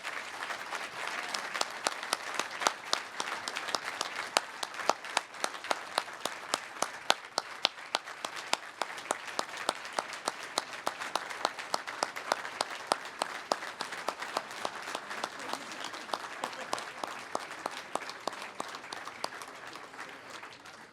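Sustained applause for athletic Hall of Fame inductees at an induction ceremony, a steady crowd of many hands clapping for about twenty seconds, moderately loud and even throughout.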